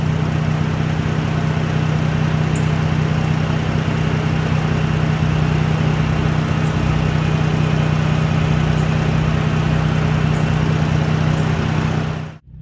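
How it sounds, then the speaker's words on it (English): A Dodge Journey engine idles smoothly and steadily with a constant low hum and no misses, close up and loud, until it cuts off abruptly at the end; no one speaks. "It's a completely smooth idle."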